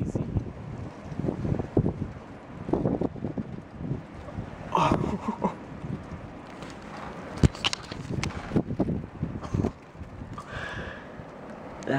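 Strong chinook wind gusting down a hill, a rough rushing roar that swells and buffets the microphone in irregular gusts throughout, with no talking over it.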